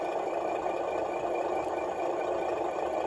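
A steady, low engine idle from a real-scale generator sound unit hums continuously, even and unchanging, with a faint rattly texture and no voices.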